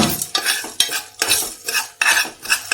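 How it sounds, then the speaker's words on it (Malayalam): Moong beans and salt stirred in a pan, a spoon scraping through them in about five rhythmic, rustling strokes, close and fairly loud with no talk. "ലേശം ഉപ്പിട്ടു ഇളക്കുന്നു"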